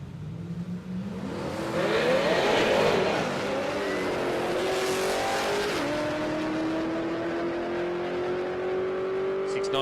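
A supercharged HG Holden Ute with a Magnuson blower accelerates hard down a drag strip, its engine note rising steadily as it pulls away, loud and continuous with a brief shift-like break midway.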